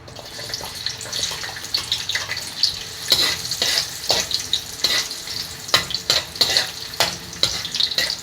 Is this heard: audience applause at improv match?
no